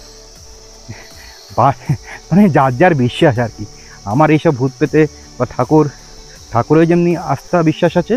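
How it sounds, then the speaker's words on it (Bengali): Crickets in a cool forest near Kurseong keep up a continuous, shrill, even drone in the background while someone talks steadily over it. "আর ঝিঝি পোকার ডাক তীব্র থেকে তীব্রতর হয়ে উঠেছে।"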